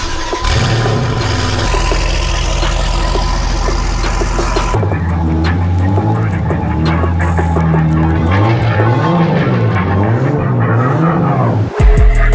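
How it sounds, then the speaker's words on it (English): A Lexus IS300 engine runs loud and close. It holds a steady drone, then climbs into repeated revving swells with a rapid ticking rattle over the top. "Car runs again."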